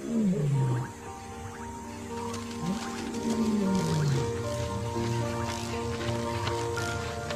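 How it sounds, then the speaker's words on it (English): Male lions roaring in the wild, deep drawn-out calls rising and falling in sequence, loud and close, with a steady outdoor background and no voices. "The male lion is not a loner. Daily calls connect him and his brother."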